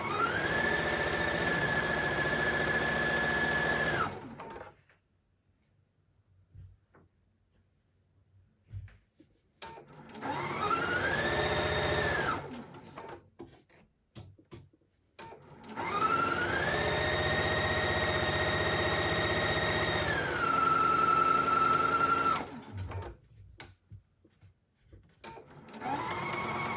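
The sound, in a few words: sewing machine stitching along the edge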